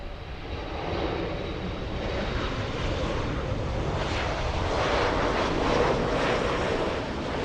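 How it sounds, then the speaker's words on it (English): Singapore Airlines Boeing 777 passing near LAX, a loud, continuous jet roar with wind buffeting, swelling gradually toward the end. "Big one! 777 Singapore."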